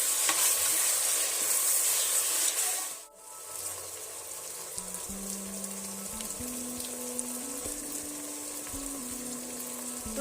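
Tomatoes frying in a pan give a steady sizzle with stirring scrapes, briefly dropping out for a moment before resuming, while a low hum runs beneath; no one speaks.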